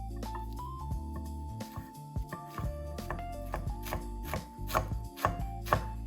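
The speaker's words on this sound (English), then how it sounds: "let's remove those tough stems and chop them finely to release all those" A knife chops mint leaves finely on a cutting board, with tough stems removed, in a run of crisp, uneven knocks that grow louder and sharper toward the end, close up with no talking.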